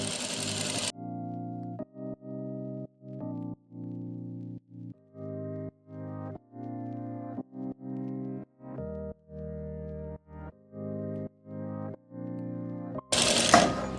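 Sewing machine stitching a kurti seam, running in repeated short bursts of steady motor whir with brief pauses between them, close and clear, bracketed by louder handling noise at the start and end.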